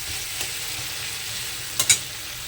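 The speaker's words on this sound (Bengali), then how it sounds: "তো টমেটো আমার দেখুন প্রায় ভাজা হয়ে গেছে" Tomatoes frying in a pan make a soft, steady sizzle up close, broken by a couple of sharp utensil clinks near the end, with no one speaking.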